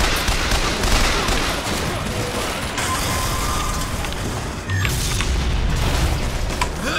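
An automated turret in the Bioshock Infinite game fires steady rapid bursts. Booming impacts and mechanical clatter fill a dense, loud game-combat din with no pause.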